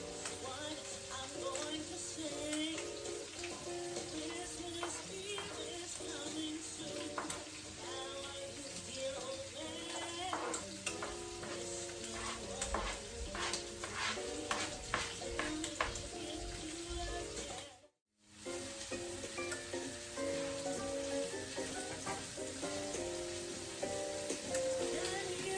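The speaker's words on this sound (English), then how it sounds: "Now we're just letting the sausage brown up" Sausage, onion and garlic frying in a pan of olive oil and butter, a steady close, dense sizzle with crackling pops that runs almost without a break, dropping out for a moment near the end.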